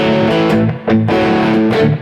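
Distorted electric guitar plays a brief twelve-bar blues variation in A: overdriven chords strummed loud and close in a steady shuffle feel, with no voices.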